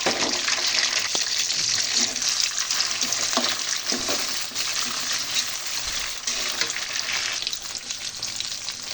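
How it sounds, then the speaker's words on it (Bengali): Large prawns fry in a pot on the stove, a loud, continuous, dense sizzle and spatter that runs without a break. "এখন চিংড়ি মাছ, এখন এটা ভেজে নেব।"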